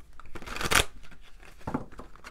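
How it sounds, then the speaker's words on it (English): Brisk papery riffling bursts, strongest in a short flurry near the start, then a softer second shuffle of cards, close up with no voices. "One more shuffle."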